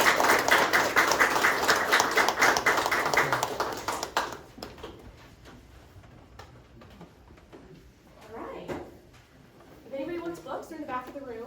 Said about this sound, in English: please, everyone, give these gentlemen a round of applause